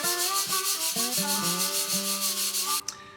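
A clutch plate is scuffed back and forth on 100 grit sandpaper, giving close, rhythmic rasping strokes about every half second, then a brief final scrape before stopping.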